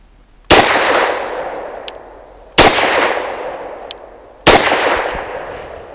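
Three loud, close pistol shots from a BUL Armory EDC firing 65 grain Norma frangible training rounds, evenly spaced about two seconds apart, each with a sharp crack and a long ringing decay, and no talking.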